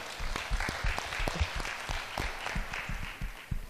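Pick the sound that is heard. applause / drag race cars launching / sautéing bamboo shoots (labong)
applause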